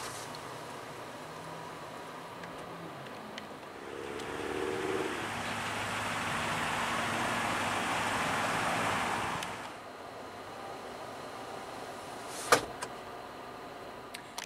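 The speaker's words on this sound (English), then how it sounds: "And your power rear window control." Power rear window of a 2014 Toyota Tundra 1794 Edition pickup running, a steady low motor whir lasting several seconds inside the cab, then stopping with a faint click; no talking.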